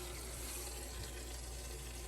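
Hot water runs steadily from a kitchen sink faucet during a home inspection in Steamboat Springs, Colorado, a continuous faint rushing flow with no voices.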